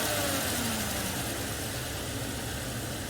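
A car engine runs at a steady idle during a cylinder pressure test, a continuous mid-pitched drone that holds even and close throughout with no talk over it.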